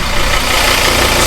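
A Ford Ranger pickup truck engine idles loudly and steadily up close, a constant rough rumble with no other sounds.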